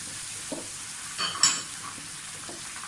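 Tomato paste dropped into a hot pan of egg curry sizzles briefly, with a short burst of frying hiss and faint stirring and utensil clinks against a quiet kitchen background.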